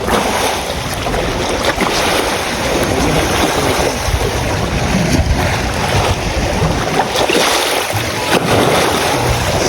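Sea waves heard as a loud, continuous wash of surf and rushing water, with wind buffeting the microphone throughout and no talking.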